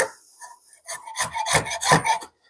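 A Stanley 92 shoulder plane rasps across end grain wood in several short, scraping strokes, close and fairly loud, each pass rough and grainy.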